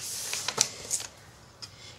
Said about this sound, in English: just fold this over.